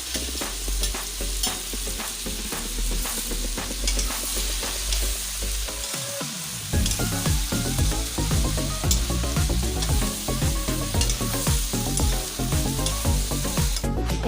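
Meat and potatoes for chicken curry fry in a pan with a steady, loud sizzle. Stirring scrapes and clatters throughout, a brief lull comes midway, and the frying turns busier after it.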